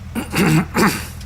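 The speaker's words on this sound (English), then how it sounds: "Again, I'm clearing my throat." A person clears their throat twice in quick succession, close and fairly loud, with a rough, gravelly rasp.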